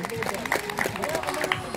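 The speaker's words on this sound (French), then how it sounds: "Un tonnerre d'applaudissements pour celui qui va s'imposer." A crowd at a junior cyclo-cross race in Saint-Donan, Brittany, applauds the winner, Romain Briand, with steady, dense clapping and crowd noise throughout, mixed with voices.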